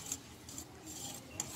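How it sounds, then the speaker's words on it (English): A utensil stirs a cathedral window dessert mixture in a bowl, soft, faint scraping with light, regularly spaced clinks. "Ayan, mix lang natin."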